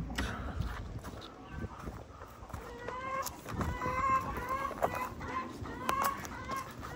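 Backyard laying hens cluck and murmur close by at chore time, a scatter of soft repeated calls over light outdoor background noise.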